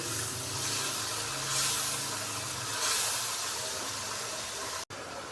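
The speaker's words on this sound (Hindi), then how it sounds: "मसाले को मैंने अच्छे से भून लिया" Spice masala with tomatoes frying in a pan, giving a steady, dense sizzle and hiss that carries on throughout with slight swells, and a brief break near the end.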